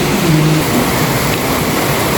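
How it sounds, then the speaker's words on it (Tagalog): Rain falls steadily, a dense, loud wash of hiss with no break, alone without voices. "1 week na po itong ulan"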